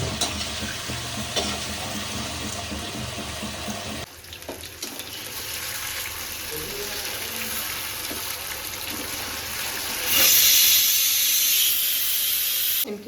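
Potatoes fry in hot oil in a pan, giving a dense, continuous sizzle and hiss with occasional stirring scrapes, close up, swelling into a louder, brighter crackle toward the end.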